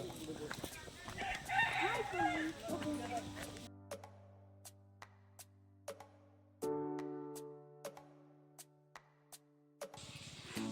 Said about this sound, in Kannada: ಕೋಳಿಗಳು